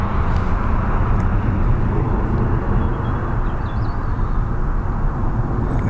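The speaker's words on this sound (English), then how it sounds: "That looks like a Dreamliner." A Boeing 787 Dreamliner airliner at Heathrow Airport runway 09R, a loud, steady low engine roar with broadband rumble holding throughout, no voices.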